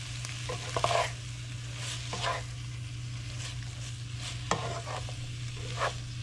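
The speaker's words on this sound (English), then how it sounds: "I'm going to add about a tablespoon or so of some lemon juice." Ground beef sizzles steadily in a frying pan for fajitas, with a low constant hiss broken by a few brief stirring scrapes and small bursts as lemon juice goes in; no one speaks.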